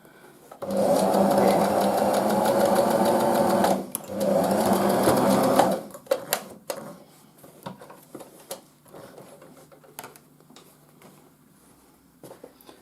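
A sewing machine stitches fabric face masks, running in two steady loud bursts of about three and two seconds, followed by quieter clicks and handling of the cloth.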